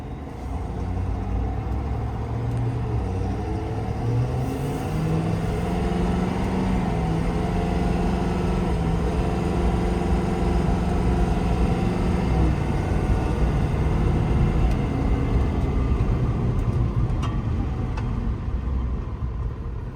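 A 2020 Ford F-550 4x4 crane truck with a 10-speed transmission drives steadily, its engine a loud continuous drone heard from inside the cab, pitch rising and dipping as it shifts through the gears, with no talking.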